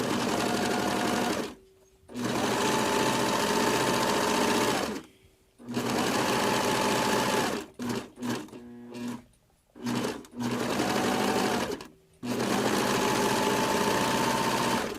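A serger runs in fast, steady bursts as it stitches and trims the edges of cloth wipes, pausing briefly between seams and stuttering through a short choppy stretch where the fabric is guided around a curve.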